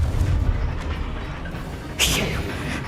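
A Confringo blasting spell from Hogwarts Legacy goes off as a sudden bright burst near the end, over a loud, rumbling game backdrop with an earlier softer thump.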